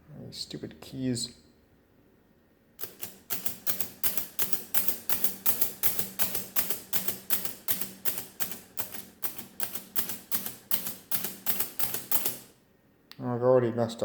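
Keys on a Comptometer 3D11 mechanical calculator are pressed in a long run of sharp, evenly spaced clacks, close and loud, with brief talking at the start and end.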